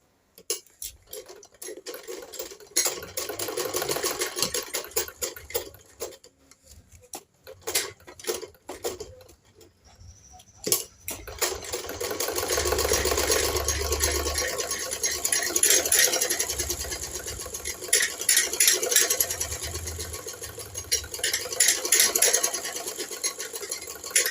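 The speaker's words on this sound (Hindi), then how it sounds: "अब हमें इस पर सिलाई लगा लेनी है।" Sewing machine stitching a blouse lining, running in rapid bursts with short pauses, then longer continuous whirring runs of needle clatter, close and fairly quiet, with no talk.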